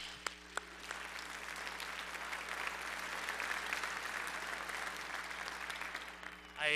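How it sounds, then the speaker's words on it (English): Families of sixth grade band students receive a sustained round of applause at a middle school band concert, steady clapping from a sizable audience filling the room with a few sharp claps at the start. "Can we give them a huge round of applause?"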